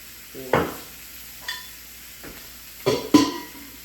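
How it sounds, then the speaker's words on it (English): Tiger shrimp cooking in avocado oil with Old Bay, a quiet background sizzle broken by four or five sharp utensil scrapes and clinks, close, with no talk. "they're gonna curl up some as I cook them too, because they are shrimp"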